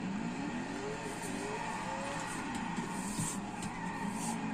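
A 1,500hp Tokyo Drift Mustang drifts through a zone in the Forza racing game, with a continuous engine roar and drawn-out tire squeals sliding up and down in pitch, fairly quiet in level.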